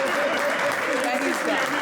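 An event audience applauds steadily and fairly loudly in a short, continuous burst of clapping, with voices mixed in underneath.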